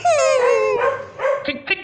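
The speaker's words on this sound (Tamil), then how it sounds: "பிள்ளைங்களை நாய் கத்திட்டு இருக்குது, கடிச்சிட்டு போகுது." A street dog barks and yelps at children in a short, strained burst of high whining cries followed by two sharp yips, with people's voices overlapping.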